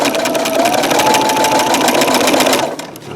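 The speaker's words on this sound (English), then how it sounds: "Let's sew that." A Brother SE625 sewing machine fitted with a walking foot stitches in a fast, steady mechanical whir for most of the moment, then slows and stops near the end.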